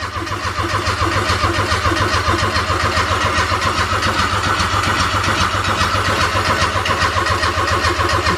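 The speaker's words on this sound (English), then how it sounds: "make sure it'll crank over" A Daihatsu Mira Avanzato TRXX with a 660cc turbo engine, freshly swapped, turns over on the starter in a steady, loud, rhythmic chug that runs unbroken from start to finish, with no voices over it.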